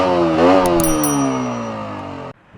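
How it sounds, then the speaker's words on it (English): KTM Duke 125 BS6 with an underbelly exhaust and catalytic converter revs sharply, climbing quickly, then holding a high buzzing tone that slowly falls away before cutting off abruptly, loud and close. "It has a catcon fitted in it and an underbelly exhaust which sounds like this."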